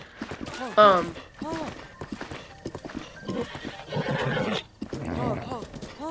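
In the video game The Legend of Zelda: Breath of the Wild, a horse whinnies loudly near the start, followed by more neighs and clip-clopping hooves, with a voice talking underneath throughout.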